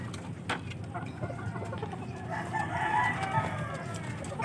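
Gamecocks at a Philippine game fowl farm, with a rooster's crow rising over background clucking and nearby bird calls while people talk quietly underneath.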